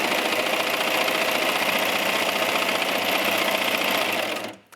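A sewing machine runs steadily, stitching a folded edge of fabric for a yoga top back wrap, its fast mechanical whir close and continuous before cutting off abruptly at the end, with no talking.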